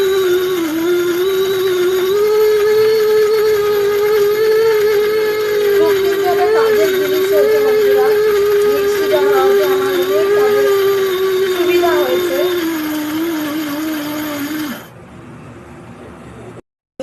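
A mixer grinder runs continuously, grinding mustard seeds and green chillies into paste with a loud, steady whine that wavers slightly in pitch before cutting off near the end, leaving brief quiet.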